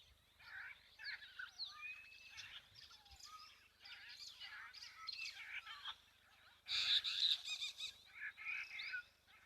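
Firefinches give soft, high, faint chirps and twittering calls at a waterhole in the wild, several birds calling in irregular bursts over quiet ambience, growing a little louder near the end.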